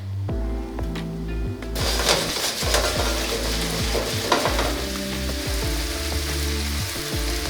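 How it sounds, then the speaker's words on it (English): Radishes laid face down in a little olive oil in a hot pan sizzle steadily, with clicks and scrapes of pieces being placed and stirred close by, and no talking. "Add just a little bit of olive oil. And then we're just going to take all of our radishes and put them face down on this."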